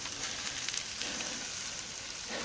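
A Daewoo microwave burns with a steady, dense crackling sizzle that holds at an even, fairly loud level throughout, with no voices.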